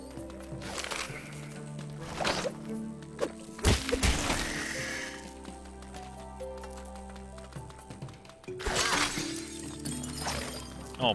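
A wall in the video game Knack is smashed, with loud crashing bursts of breaking and splintering debris recurring several times over game music.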